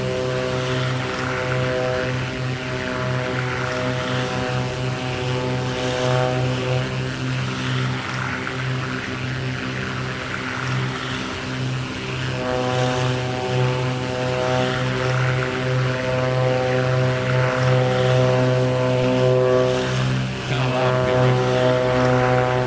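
A BlackSquare B58 twin propeller aircraft in Microsoft Flight Simulator 2024, heard from outside, drones loudly and steadily with a strong harmonic engine hum and prop buzz throughout, with no speech.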